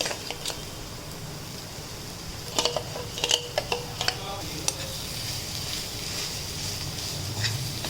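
Mashed potatoes being stirred and mixed in a bowl, soft wet scraping with a few clinks of a utensil against the bowl, steady and close.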